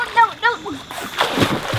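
A Traxxas DCB M41 Widebody RC boat splashes through a swimming pool, giving a burst of water spray and sloshing after a child's brief speech at the start.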